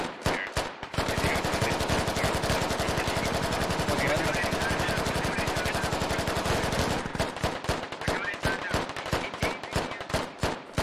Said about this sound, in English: the HMG is still suppressing Slot Squad